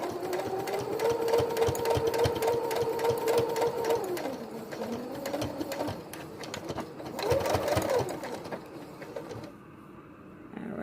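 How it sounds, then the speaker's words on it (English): A sewing machine stitches a seam across a fabric face mask, a steady mechanical whir with rapid needle clatter running in bursts, pausing and restarting near the close. "And you just sew a line right there."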